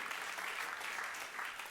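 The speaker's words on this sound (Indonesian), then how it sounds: "Tepuk tangan yang meriah untuk kemuliaan Tuhan." A congregation at a church service applauds, a steady wash of clapping that sounds somewhat distant and moderately quiet.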